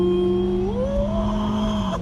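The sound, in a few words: Hyundai Elantra 2022 accelerating at full throttle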